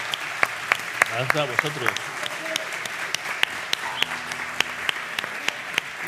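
Audience applause at a live podcast recording, crisp individual claps from a modest crowd over room noise, with people talking briefly over the clapping.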